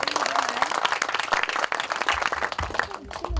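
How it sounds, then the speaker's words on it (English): An audience claps steadily at a film trailer launch event, with scattered crowd noise and a voice partly audible through the applause. "Can we please keep clapping with your hands?"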